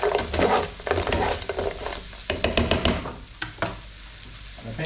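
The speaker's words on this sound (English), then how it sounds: "So, whack the chips in there. And a quick stir in" Chips are stirred in a hot pan with salt and pepper squid, loud close sizzling and frying overlaid by a run of scraping stirring strokes that thin out toward the end, with no talk.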